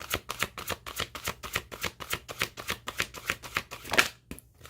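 An oracle divination card deck is shuffled up close, a rapid run of crisp riffling flutters in an even rhythm that stops abruptly near the end, with no voices.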